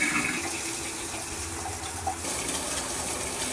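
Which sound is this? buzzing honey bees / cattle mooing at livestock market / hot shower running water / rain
hot shower running water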